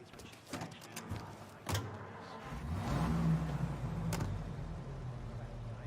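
Car being driven in the Mafia Definitive Edition video game, with a door thump and clicks followed by an engine starting up and revving into a steady low rumble, fairly close and moderately loud.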